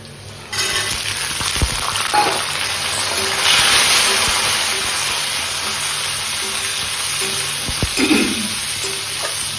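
Chickpeas frying in hot oil in a kadai with onions already browned, a loud continuous sizzle punctuated by scraping stirs and spoon knocks, close and alone.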